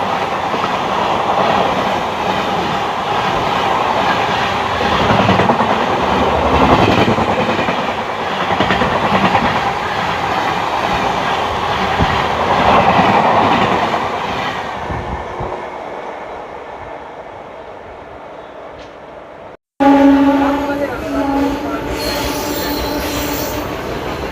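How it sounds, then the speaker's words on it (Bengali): The Howrah–Tatanagar Steel Express passes on the rails, heard close and loud as a heavy rumble with squealing wheels and clatter. The roar eases off, breaks briefly, then railway noise resumes. "Howrah Tatanagar still express."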